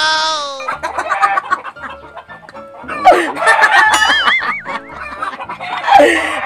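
Chickens and a rooster in a noisy close-up burst, with repeated clucks and squawks, a crowing call and sharp bird cries, loud and near with brief gaps between calls.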